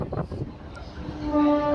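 A moving train car heard through an open doorway, with a steady low rumble of the carriage and wheels and a brief tonal whine toward the end, fairly loud throughout.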